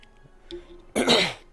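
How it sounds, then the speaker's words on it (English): A sharp, loud throat clearing bursts out once near the end after a quiet stretch of faint background murmur, close and dry, at a tabletop Dungeons and Dragons game session. "No, I cleared my throat."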